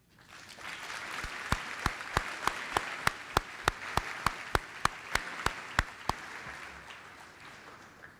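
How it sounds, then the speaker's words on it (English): Audience applause for graduating seniors at a senior awards night, a soft steady crowd clapping with one nearby person clapping in a sharp, regular rhythm on top, fading out at the end. "Give yourselves a well-deserved round of applause."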